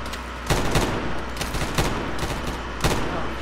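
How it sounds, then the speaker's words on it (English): Enemy gunfire in the military shooter Arma 3, with four sharp, loud shots at irregular intervals over a steady background rumble and no talking. "obviously, they're shooting at us"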